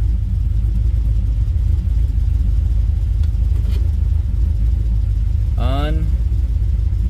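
A car engine runs steadily as the transmission is shifted through its gears, giving a loud, continuous low rumble, with a brief rising chirp near the end.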